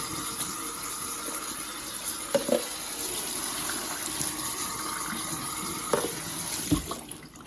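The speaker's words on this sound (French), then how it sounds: "on rince tout ça à l'eau claire" Clear tap water runs steadily into the emptied dirty-water tank of a Neakasa PowerScrub II floor cleaner, a soft, continuous gush with a few brief knocks and sloshes as the tank is rinsed.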